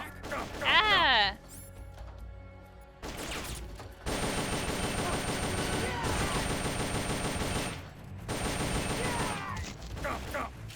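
Bursts of video game gunfire in Metal Gear Solid: Peace Walker, a suppressor having broken, fire in loud rapid volleys, some long and sustained, with a shouting voice and game sounds mixed in.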